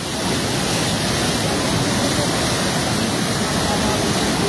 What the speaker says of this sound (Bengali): বৃষ্টি থামছেই না।